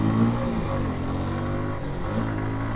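A Suzuki Gixxer SF motorcycle engine revs steadily and loudly up close, a continuous droning growl with slight rises in pitch and no talk over it.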